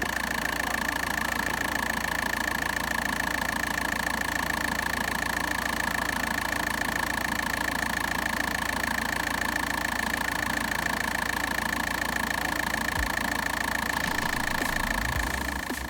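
A car engine idles steadily after a leak repair, a continuous even hum with a persistent whining tone, close and unchanging throughout with no talk.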